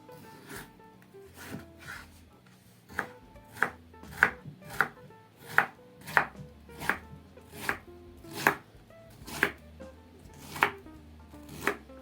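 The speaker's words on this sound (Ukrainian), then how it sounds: "нарізаю моркву кубиками невеличкими" A knife chops carrots into small cubes on a cutting board, about a dozen crisp, evenly spaced thuds, close up with no talk.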